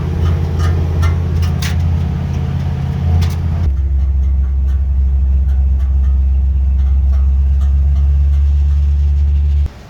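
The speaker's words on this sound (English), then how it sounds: "That's the muffler bouncing off the ground." Steady loud car engine drone and road rumble while driving, with a muffler scraping and bouncing off the ground in irregular clatters during the first few seconds, then a continuous low rumble until it stops abruptly.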